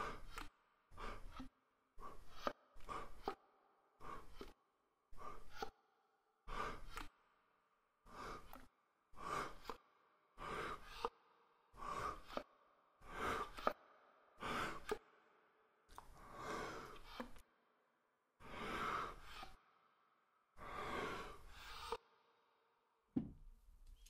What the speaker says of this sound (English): I also really like how each of the breaths ends with a click. Like you could hear the key sound at the very end as the breath is cut off.